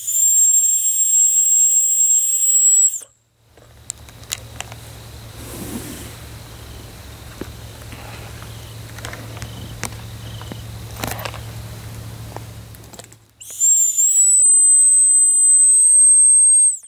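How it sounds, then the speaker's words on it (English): A high, piercing dog whistle blows steadily for a few seconds at night outdoors, stops for a long quiet stretch of faint outdoor noise, then sounds again. "So we're about to try the dog whistle, see if we can set off the coyotes or anything."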